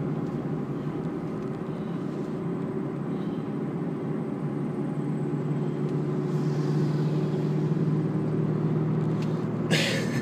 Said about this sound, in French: C'est une Hyundai Accent de 2001.